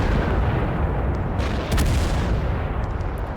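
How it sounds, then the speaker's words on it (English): A vehicle cannon in the war game Total Conflict: Resistance pounds out explosive rounds, heavy booms rolling into one another under a dense rumbling din. "Giant explosive rounds."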